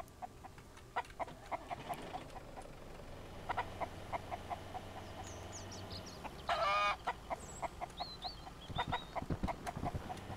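A chicken in the Mist Survival video game clucks in short, repeated bursts over a quiet outdoor ambience with scattered chirps and clicks, and one louder flurry of squawking midway through.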